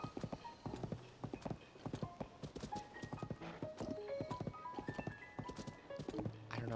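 Horse hooves clip-clop steadily while riding in Zelda: Tears of the Kingdom, a brisk rhythmic patter with occasional whinnies, mixed with soft background game music.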